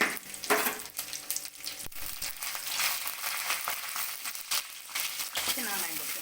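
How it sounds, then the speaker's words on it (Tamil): Mustard seeds frying in hot oil for a Tamil ponnankanni keerai poriyal, crackling and sizzling with sharp pops and stirring scrapes, busy and close throughout. "எண்ணெய் சூடானாலும் கடுகு சேர்த்துக்கலாம்."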